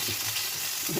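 Cashews and raisins frying in hot oil in a home kitchen, a steady close sizzle with faint stirring, no voices.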